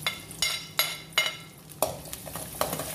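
Crushed garlic sizzles in hot oil in a pan for chicken adobo, while a utensil stirs and scrapes in a steady rhythm of about a dozen sharp strokes over a constant close frying hiss.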